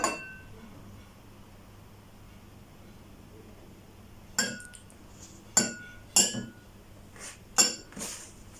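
A spoon stirs shampoo in a glass with a handful of sharp, bright clinks against the rim in the second half, spaced irregularly after a quiet stretch of faint hiss.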